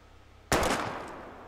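A single gunshot fired at a bottle in the Life is Strange video game, one sharp close blast with a short, fading tail after a quiet lead-in.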